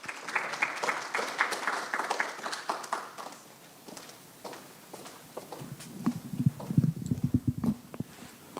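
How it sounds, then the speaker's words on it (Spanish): Applause welcomes the speaker at a technical talk at the Colegio de Ingenieros del Perú, moderate clapping that fades after a few seconds, followed by shuffling footsteps and soft thumps. "Le damos la bienvenida con un fuerte aplauso."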